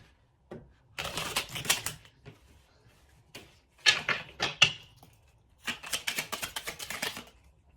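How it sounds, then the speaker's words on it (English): Oracle cards are shuffled and pulled by hand in several quick, rattling bursts separated by short pauses; close and fairly quiet, with no voices. "I'm going to pull some Angel Answers cards after I pull these Hidden Truth Oracle cards for you guys"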